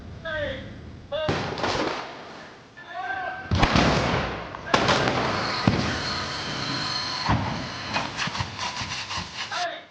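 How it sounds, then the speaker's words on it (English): Stunt explosions on the X-Men 2 film set, several sharp loud blasts with rumbling tails, separated by pauses and followed by a burst of crackling bangs, with people talking around them. "We were watching from the side as they shot the explosions go off"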